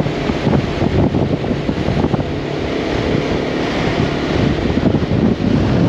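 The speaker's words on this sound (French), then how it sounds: "il y a énormément de vent" Strong wind gusts buffet the microphone on the Irish coast while riding with a motorcycle group, a loud, roaring rush mixed with road and sea noise, with no talk.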